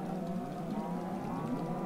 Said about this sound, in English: Sorry about the noise of the cows.